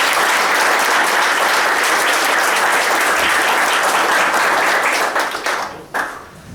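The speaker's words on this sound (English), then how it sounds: "let's just give one last round of applause" Loud, sustained applause from a large crowd at a poetry event, steady clapping that fades out near the end.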